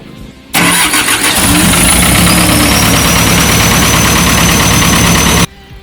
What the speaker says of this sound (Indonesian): coba kita hidupkan mesinnya